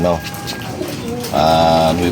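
A racing pigeon gives soft, close coos, ending in a longer rolling coo, while someone talks over it.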